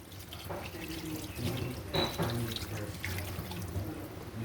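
Water pours steadily into a pot of pork ribs seasoned with sugar, a continuous moderate splashing rush that swells slightly midway, with no talking.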